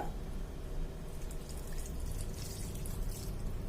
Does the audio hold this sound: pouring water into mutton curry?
yes